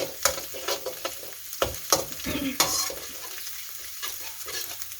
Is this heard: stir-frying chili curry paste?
yes